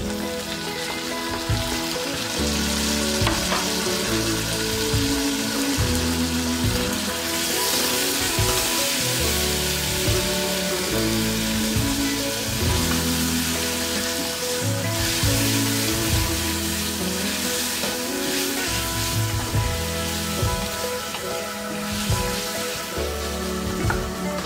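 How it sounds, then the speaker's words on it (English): Finely chopped onions and tomatoes for an egg masala curry fry in a pan with a steady, dense sizzle and crackle, close and constant, with occasional stirring and no voices. "So the onions and the tomatoes are fried well."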